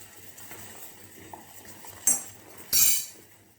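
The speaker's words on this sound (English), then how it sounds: "Give it a gentle stir." A spoon stirs rasagollas gently in sugar syrup in a pot, with soft quiet swirling followed by two sharp metallic clinks of utensil against pot near the end.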